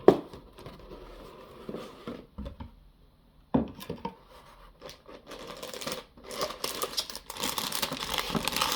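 Crinkling plastic wrap and rustling cardboard as a Real Grade MS-06S Zaku II Gunpla model kit box is opened, with soft tearing and handling noises in bursts, growing busier and more continuous toward the end.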